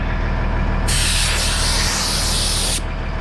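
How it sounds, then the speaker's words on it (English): A sharp, loud hiss of air bursts from the brake system of an LMTV military truck as the trailer brake releases, a steady rush lasting about two seconds before cutting off abruptly, over a low idling rumble. "push the parking brake, which releases the trailer brake because it gives it air"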